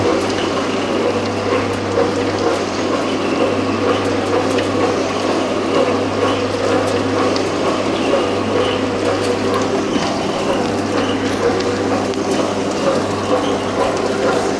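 A vegetable peeling machine runs with water flowing through it, washing soil off the produce, giving a steady loud mechanical hum with a constant watery rush and no talking.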